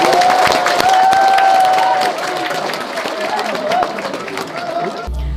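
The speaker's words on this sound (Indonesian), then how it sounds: "Tepuk tangan, demikian lagi." Applause from a church congregation at the new Catholic church of Saint Joseph parish in Senopi, a dense crowd clapping loudly at first and then softening, fading out near the end.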